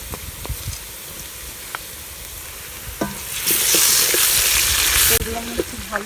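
Ginger and garlic frying in oil in a pan while cooking chicken khichuri, a close, steady sizzle with occasional stirring taps that rises into a louder hiss for a couple of seconds before settling.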